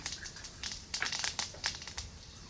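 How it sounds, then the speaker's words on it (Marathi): Cumin seeds crackle and pop in hot oil, a quick irregular scatter of sharp little snaps at moderate volume. "जिरे छान अशी तडतडले"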